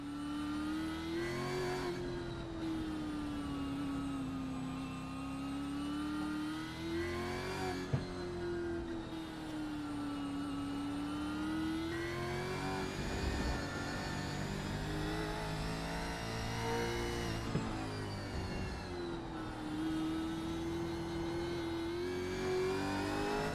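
A race car engine in iRacing at Mid-Ohio drones and climbs in pitch as it accelerates, dropping at each gear change before rising again, steady and prominent throughout the long run with no talking.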